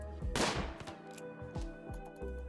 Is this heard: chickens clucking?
no